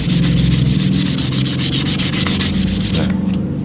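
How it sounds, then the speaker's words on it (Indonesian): Sandpaper scrubs loudly and up close over V3 wood filler on a wooden bird cage, in steady, fast back-and-forth strokes that stop just before the end. "Apa amplasnya dihabiskan ya sampai rata ya"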